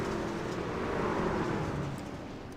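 Race trucks roar off the green flag on a Knoxville dirt track under hard throttle, a dense, loud engine drone with rising pitch, heard from a distance, without talk.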